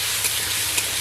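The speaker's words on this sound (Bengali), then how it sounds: "আলুটাকে আমি একটু ভেজে নেব" Potato pieces with salt and turmeric frying in hot oil, a steady close sizzling hiss with faint stirring scrapes, no voices.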